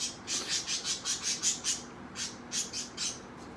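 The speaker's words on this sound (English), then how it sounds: "My birds are chirping" Pet birds chirp indoors in a quick run of bright, regular tweets, pausing briefly and then resuming, fairly close and clear over a quiet room hum.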